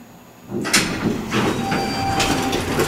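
A Magnatec elevator at the Hatfield government center descending, its steady rumbling drone starting after a brief quiet moment and continuing, with a faint whine and occasional rattles and clunks close by.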